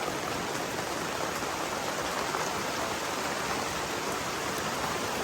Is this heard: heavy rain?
yes